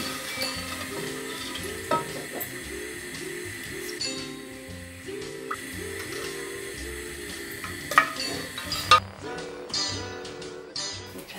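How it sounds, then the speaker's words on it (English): Salty homemade conductive dough mixture is stirred continuously in a pan over medium heat, giving a steady rhythmic scraping and gentle sizzle up close, with a couple of sharper knocks near the end. "Stir the mixture continuously over a medium heat until the balls of dough form."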